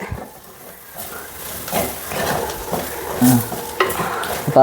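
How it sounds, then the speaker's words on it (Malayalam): A spoon stirring a spiced fish masala mixture in a hot pan for a Kerala fish curry, scraping and sizzling continuously at close range, fairly loud and with no talk. "ഇനി നമുക്ക് ഇവരെല്ലാവരും കൂടി ഒന്ന് യോജിപ്പിച്ചെടുക്കാം ഇത് പച്ചമണം മാറുന്നത് വരെ"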